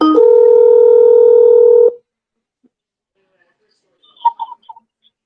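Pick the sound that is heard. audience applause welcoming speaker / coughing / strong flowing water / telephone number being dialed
telephone number being dialed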